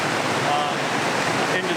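A river swollen overnight with mountain snowmelt rushes past close by, a steady, dense roar of churning water along a backcountry trail.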